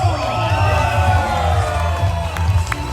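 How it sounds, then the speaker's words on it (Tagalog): Wedding guests cheer, whoop and shout in a loud, steady crowd roar at a reception for the newlywed couple Jojo and Joan, with a low music beat running underneath throughout. "Muli isang malakas na palakpakan na may kasamang hiyawan!"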